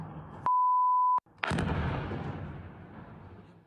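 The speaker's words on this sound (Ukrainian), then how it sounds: "Дрон поцілив у сміттєві баки біля під'їзду." An attack drone strikes trash bins by the entrance of an apartment building. A steady electronic beep cuts off, then a sharp, loud explosion bursts and its rumbling echo decays slowly across the surroundings.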